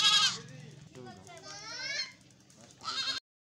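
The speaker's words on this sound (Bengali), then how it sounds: "বাবাকে আসতে দেখে ছাগলগুলো ম্যামা করছে" Farmyard goats bleat in several wavering cries at close range, with pauses between calls and a voice faintly mixed in.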